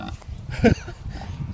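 A pig grunts once, briefly and close, in a farm pen in New Zealand, with faint background noise and some soft speech-like murmuring around it.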